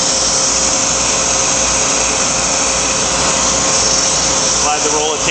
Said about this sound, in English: You can hear the vacuum.